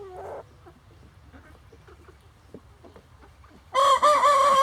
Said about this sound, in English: Yes, fine chicken. Come on, chicken.